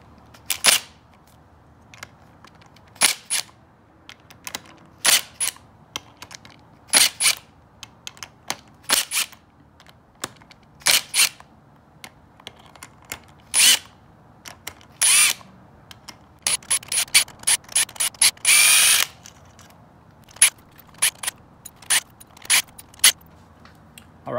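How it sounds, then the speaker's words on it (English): A 10 mm socket loosens engine bolts on a Yamaha YFZ450 quad engine during a bottom-end teardown. Sharp, loud bursts of tool clicking and ratcheting come in irregular spurts over quiet gaps. "So we'll just loosen them up very gently in a couple of few different steps."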